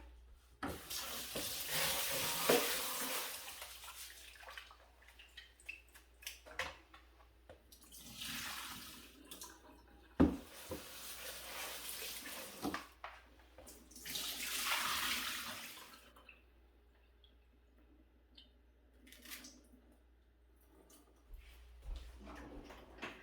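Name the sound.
washing three cups of rice in water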